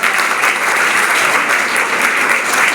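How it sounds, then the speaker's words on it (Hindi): Loud, dense applause from a large audience at a university program, continuous clapping filling the room without pause and no voices over it. "जोरदार ताली बजाओ अपने लिए।"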